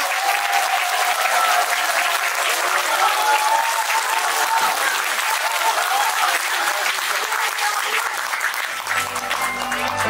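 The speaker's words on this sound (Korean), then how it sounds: "큰 박수로 맞아주시기 바랍니다." Sustained, dense applause fills a talk-concert hall, loud and steady for about nine seconds before tapering off near the end.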